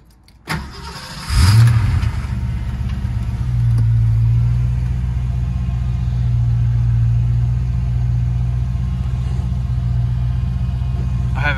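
A 1990 Ford Mustang LX with a 5.0 engine cold-starts with a short crank, then catches and settles into a loud, deep, steady idle that rises slightly before holding even, close to the microphone.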